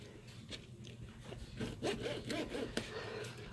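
Knife sawing through tough meat, a quiet rhythmic series of scraping, rasping strokes close by, growing a little busier toward the end, with no talking.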